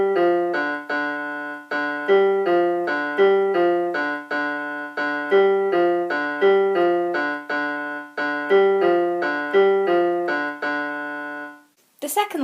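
An electronic keyboard plays the opening riff of a song four times over, a bright staccato line of short, evenly spaced notes, loud and close, ending with a brief noise.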